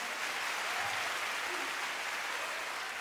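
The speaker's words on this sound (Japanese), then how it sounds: "皆さん大きな拍手でお迎えください。" A concert audience claps in steady, dense applause that fills the space evenly and does not let up, with no one speaking over it.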